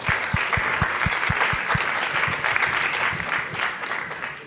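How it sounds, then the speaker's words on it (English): An audience at a startup showcase applauds the returning champion with dense, loud, sustained clapping close by that carries evenly throughout. "Round of applause for Calvin."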